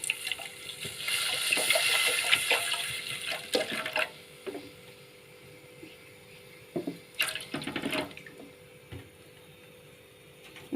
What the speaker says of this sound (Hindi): ये मैंने डाला पानी